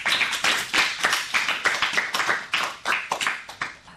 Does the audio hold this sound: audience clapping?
yes